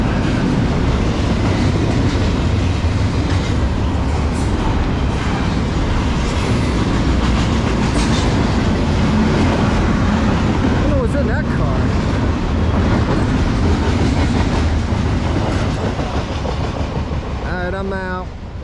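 CSX heritage locomotive #3415 "Georgia Road" hauls a train through Edison with a continuous loud, close roar and rattling freight cars for nearly twenty seconds, ending with a brief chirping squeal as it passes.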